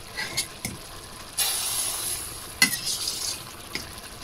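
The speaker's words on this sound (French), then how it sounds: "Et on va rajouter nos carottes." Carrots tipped into a hot pan for bolognese sauce, a broad sizzling hiss swelling as they land, with scraping and clattering stirring knocks nearby.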